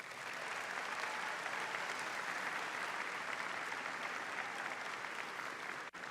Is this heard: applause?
yes